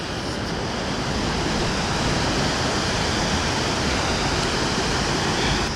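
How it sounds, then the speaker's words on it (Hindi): A mountain stream in the hills near Chamba, Uttarakhand, rushes in a steady, loud, unbroken wash of water, close by, with no voices. "और पानी की धार देखो लाजवाब है एकदम"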